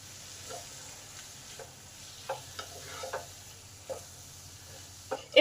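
Chopped chicken frying in a pan with half a spoon of chilli powder: a soft, low sizzle runs underneath while a spatula scrapes and taps the pan now and then, with a louder clatter at the end.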